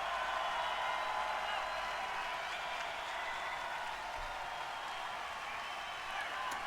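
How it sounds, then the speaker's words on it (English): Extra crowd applause layered into a live concert mix, a steady, even roar of distant clapping and cheering at low level throughout, with no break. "This is the extra applause I've added."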